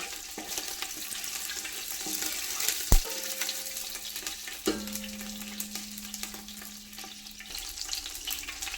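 Three onions sizzle steadily in a hot pan in a Malappuram home kitchen, a continuous close frying hiss with a few sharp clinks and brief stirring knocks partway through.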